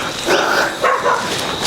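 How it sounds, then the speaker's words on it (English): A puppy barks in short, sharp, high yips, a few in quick succession, loud and close. "Puppy start to bark."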